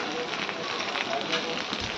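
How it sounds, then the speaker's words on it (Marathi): Red chilli, cumin, mustard seeds, onion and garlic sizzle in hot oil for a dal tadka, giving a dense, steady, close hiss with no break. "तर तेल मध्ये टाकला आहे मिरचीचा, लाल मिरची, जिरी मोहरी, कांदा, लसूण."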